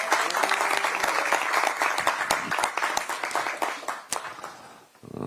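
An audience at a Democratic Party election committee launch gives loud, sustained applause, dense clapping that tapers off near the end.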